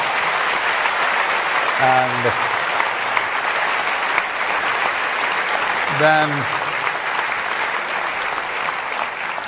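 A large crowd applauds continuously, a dense wash of clapping that holds steady throughout, with a voice speaking briefly over it twice.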